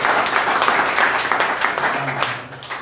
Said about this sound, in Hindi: इनके लिए हम लोग जोरदार तालियों से स्वागत करेंगे।